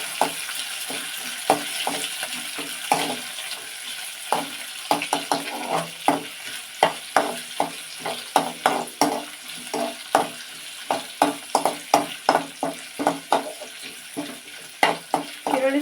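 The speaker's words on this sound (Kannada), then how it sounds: "ಈರುಳ್ಳಿ ಹಾಕಿಬಿಟ್ಟು ಒಂದು ಸ್ಪೂನ್ ತೊಗೊಂಡು ಫ್ರೈ ಹಾಕ್ತೀನಿ" Onions fry in a pan for a village-style brinjal dish, a soft sizzle punctuated by a rapid series of loud, rhythmic spoon scrapes and taps against the pan.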